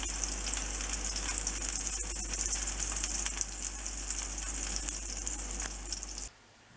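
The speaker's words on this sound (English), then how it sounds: "Now that we have the burgers on the stove" Cheese-filled Hamburg steak patties fry on a stovetop with a loud, continuous hissing sizzle that stays even for about six seconds, then cuts off abruptly to near silence.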